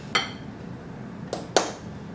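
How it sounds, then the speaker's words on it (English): A whisk taps the side of a bowl a few times while dry ingredients are stirred into pizzelle batter, with soft, brief, close-up clinks over a quiet background. "then we're gonna whisk in our dry ingredients"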